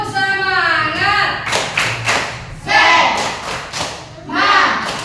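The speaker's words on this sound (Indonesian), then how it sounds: "Tepuk semangat." Schoolchildren in an Indonesian classroom perform a rhythmic cheer clap, with bursts of group clapping and thumps alternating with loud chanted voices in a repeating pattern.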